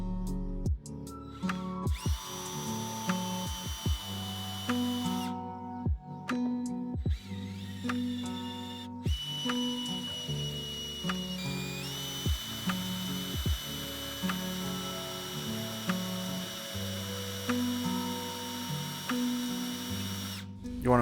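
A drill boring holes for mini switches in a part for a BMW R75/5 motorcycle build, running in repeated bursts with stops and restarts over a steady hum, close and fairly loud.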